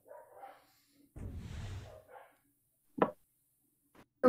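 Dogs in a video game give a couple of sharp, brief barks late on, set among sparse, quiet game noises and a short burst of rumbling, with silence between.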